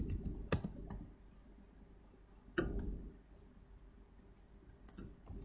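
Password being typed on a computer keyboard, heard as a few quick clusters of key clicks with pauses between them, fairly close over a quiet room background.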